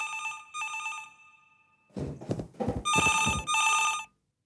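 An old-style telephone bell rings in a TV drama scene, two short bursts followed by a longer clamorous ring, loud and close, with no talk over it.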